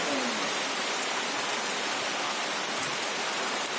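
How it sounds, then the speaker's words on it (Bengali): Steady broadband hiss of rain during a storm outside a house during a power cut, continuous and even throughout, with no voices. "বাইরে এখন ঝড় হচ্ছে"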